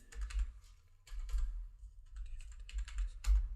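Keys clatter on a computer keyboard while a vehicle number is entered into Tally Prime accounting software, with quick irregular bursts of close taps separated by brief pauses and no speech.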